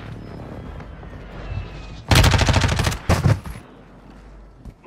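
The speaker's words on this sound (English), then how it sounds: "Friendly precision airstrike inbound." A precision airstrike in Warzone 2.0 hits as a loud, dense roll of rapid blasts about two seconds long, then a shorter second burst, after a quieter stretch of distant battlefield rumble.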